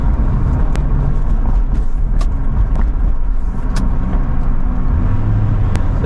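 A 1996 Corvette on new 17 x 11 inch wheels and tires drives steadily with a low, continuous road rumble and tire roar, fairly loud and close, with a few faint ticks and no talking.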